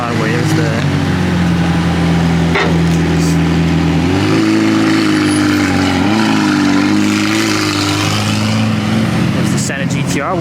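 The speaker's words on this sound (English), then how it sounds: "One last rev." A hypercar engine revs loudly and close on a busy street during a car week exotics gathering, with a steady high-volume roar that climbs in pitch partway through, while people talk over it.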